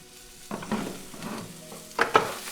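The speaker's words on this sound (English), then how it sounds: "So just give this a little stir around." Minestrone vegetables sizzle in a pot while a spoon stirs them, giving a soft hiss broken by several scraping, clattering strokes, with louder knocks near the end, heard close with no talking.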